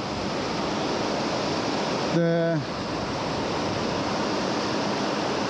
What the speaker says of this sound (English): the river we have just crossed, which came from the glacier